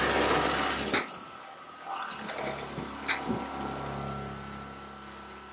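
Water running through a Joolca Hottap outdoor shower on an off-grid plumbing setup, spraying loudly at first, cutting briefly, then flowing steadily again with a few knocks and clatters.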